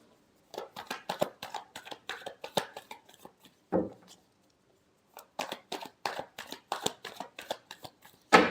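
Tarot cards shuffled by hand in dense bursts of quick riffling flicks, a short pause midway and a brief separate rustle, close and fairly quiet with no talking.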